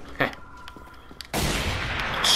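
Enemy gunfire in Bulletstorm: a few sharp shots early on, then a sustained loud burst of rapid fire that fills the last second, close and harsh.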